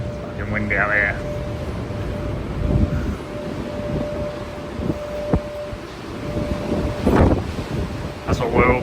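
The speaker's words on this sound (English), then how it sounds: "It's fucking windy out here." Strong wind buffets the microphone on an open ship deck, a low rushing roar with gusts, a steady tonal hum and brief voices.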